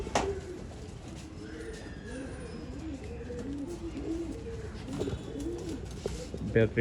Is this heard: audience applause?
no